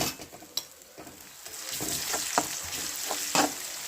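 Chopped onion sautéing in a pan for pav bhaji: a steady, moderate sizzle broken by several sharp scrapes and clinks of a spoon stirring against the pan, close and without voices.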